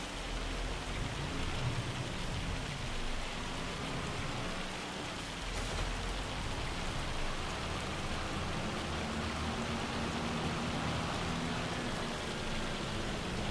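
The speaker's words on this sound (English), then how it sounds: "Try to get through this hail." Hail pours down in the farming game Farming Simulator 25, a constant, even hiss of dense pattering that never lets up, with no voices.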